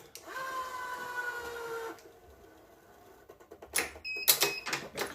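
Racquet stringing machine re-tensioning a string: a steady whirring hum for a couple of seconds, then quiet, followed by sharp clicks and clunks of the tensioner and clamp, close by.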